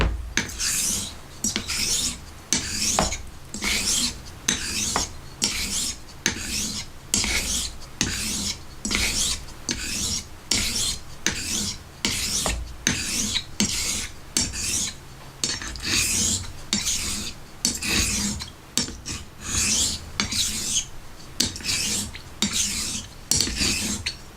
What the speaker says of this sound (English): I was doing some edge trailing, just to kind of strop